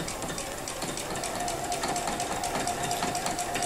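A sewing machine runs continuously during free-motion quilting, its needle chattering in a fast, even rhythm with a steady motor hum, close and unbroken for the whole stretch.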